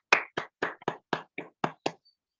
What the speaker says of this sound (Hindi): आप एक बार जरूर जोरदार तालियां बजाएं